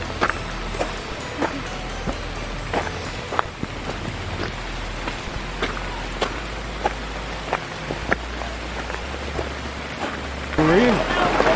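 Steady rain falls outdoors near the entrance of the Great Saltpetre Cave in Rockcastle County, Kentucky, a continuous wash of drops with scattered louder ticks and a low rumble beneath, persisting throughout without any talking.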